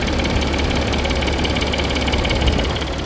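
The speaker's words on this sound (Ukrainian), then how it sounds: "двигун прогрівається, ось так він працює" The 3.0 TDI diesel engine of a 2018 Volkswagen Touareg idles steadily up close while warming up, a constant knocking rumble with no pauses or speech.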